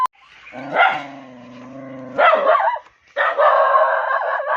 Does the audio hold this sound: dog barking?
yes